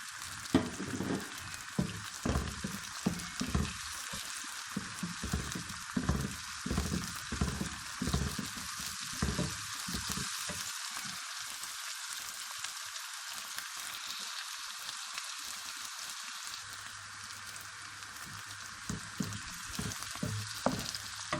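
Steady crackling sizzle of garlic ginger paste frying in a hot pan, with occasional stirring scrapes, continuous and close without any voices.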